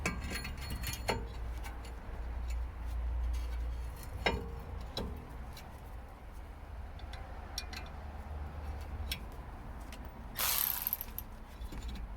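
Brake calipers, caliper carrier and disc being bolted back onto a BMW 320D E90 with a ratchet: faint, sparse clicks spaced out over a quiet garage, then a short, sharper burst of ratcheting near the end.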